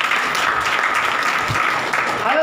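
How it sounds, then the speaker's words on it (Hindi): A congregation at a Hindi Bible study claps together in a loud, dense burst, with voices audible alongside the clapping. "ताली बजा के प्रभु के नाम में"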